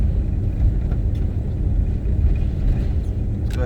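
A 2000 GMC box van with dual rear wheels accelerates while driving, a steady loud low road-and-engine rumble heard from inside the cab throughout.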